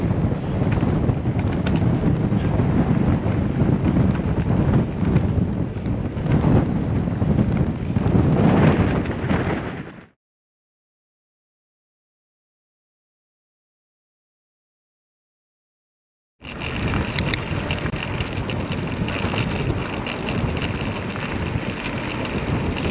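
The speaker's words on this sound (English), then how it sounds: "Can't hear anything except for the wind." Strong wind roars into the microphone while cycling into a headwind on a flat road of the Mawson Trail between Quorn and Cradock, a loud, steady buffeting that cuts out completely for several seconds before returning just as hard.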